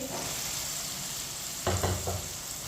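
Boiled white chickpeas go into a hot frying pan, starting with a soft steady sizzle that is then broken by a few quick scraping, clattering stirs near the end.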